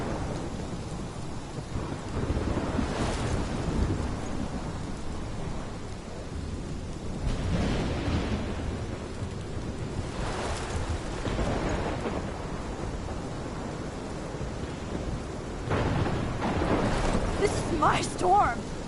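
A thunderstorm in Life is Strange Remastered, with steady heavy rain and wind roaring throughout and several loud rumbling thunder surges spread across the stretch.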